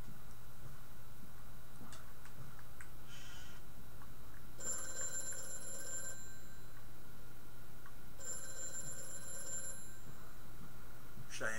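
An old telephone bell in the Dead Space video game rings in two separated bursts over a low hum, with faint ticking and creaking ambience between them.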